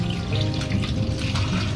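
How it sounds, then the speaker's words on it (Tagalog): Running tap water splashes steadily as eggs are washed under it, a close, continuous rushing flow with no voices. "Ating hugasan ang mga itlog para maiwasan magkaroon ng bacteria or salmonella."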